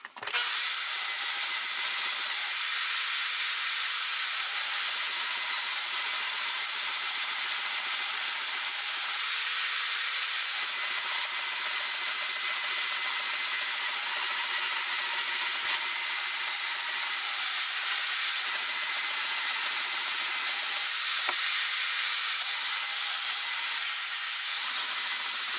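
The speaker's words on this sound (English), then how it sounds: "I'm just going to clean off all of this by just trimming this all along the edge of this bracket" A power tool trims thin metal along the edge of a trailer gate bracket during a rust and weld repair, a steady bright grinding hiss running nonstop at close range for the whole stretch with only slight wavering.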